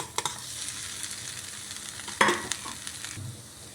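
Grated boiled potato is mixed into sautéed onions in a pan, with a soft sizzle under repeated scraping and stirring clatter and a sharper knock midway through.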